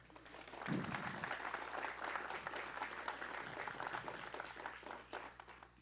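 An audience at an opening talk gives a soft, sustained round of clapping, faint and fairly distant, with a low hum beneath and a brief low thump near the start.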